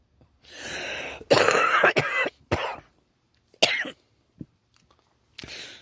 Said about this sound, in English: Gotta cough that up.